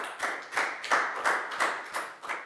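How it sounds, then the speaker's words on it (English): A small group in a Year 4 maths class claps about seven times in an even, quick rhythm, close and crisp with no talk over it. "Big round of applause for Pak Bung, please, guys."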